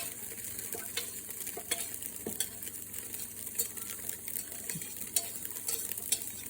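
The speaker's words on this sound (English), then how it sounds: "then we're gonna cook our vegetables" Vegetables fry quietly in a pan with a soft, steady sizzle, and a utensil scrapes and taps against the cookware now and then. No voices are heard.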